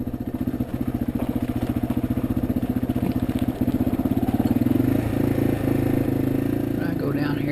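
A small hill-climb motorcycle engine labours up a steep mountain trail, its rapid, steady firing pulses loud and close for the whole stretch, slowing and roughening slightly near the end.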